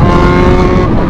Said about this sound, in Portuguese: Tá uma barulheira essa moto.